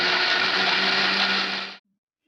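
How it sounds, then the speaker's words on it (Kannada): A mixer grinder blends salted jackfruit pods with cumin and a little water into a thick paste. A loud, steady high whir runs close by, then cuts off abruptly near the end. "ಇಷ್ಟು ಹಾಕಿ ನಯವಾಗಿ ರುಬ್ಬಿಕೊಂಡು ಬರ್ತೇನೆ"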